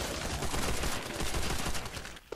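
Rapid, loud video-game gunfire from a kicking, recoiling weapon in a zombie survival shooter, a dense unbroken stream of shots that cuts off abruptly near the end.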